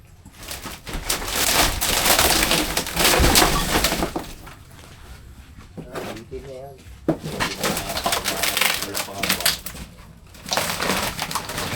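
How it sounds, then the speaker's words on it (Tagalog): Chicks chirp in a close, busy outdoor setting, their high calls mixing with crunching and rustling while people talk over and around them. "Dami kong sisiw dito."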